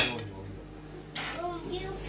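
Thai sour curry with fish ladled from a pot into a dish, heard as a short clink of ladle and metal utensils against cookware, close and quiet, with a faint voice in the background.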